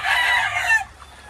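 A rooster crows loud and close for under a second inside a flood-prone chicken coop in Montalban, Rizal during Typhoon Enteng, followed by a faint cluck.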